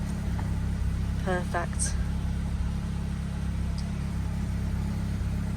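A raffle car's engine ticks over at idle after being started on the choke, a steady low rumble running throughout, with a brief spoken word partway through.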